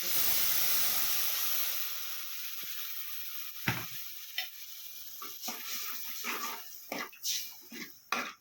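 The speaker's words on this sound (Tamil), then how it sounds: "ஒரு 10 நிமிஷம் நல்லா கொதிக்க விட்டு இறக்கிடலாம்." A pan of tomato chilli chutney with garlic hisses steadily at first, then settles into quieter bubbling with scattered pops and occasional stirring clinks.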